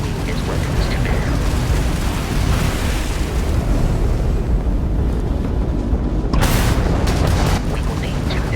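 Starship combat in Starfield against a Crimson Fleet ship: a dense, continuous rumble of booming weapons fire and blasts, with a sharper burst of impacts near the end.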